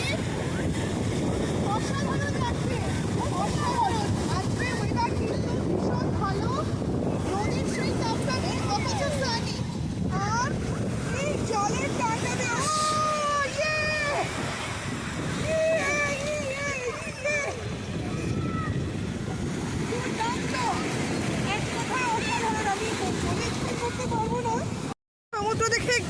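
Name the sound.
sea waves at a UK beach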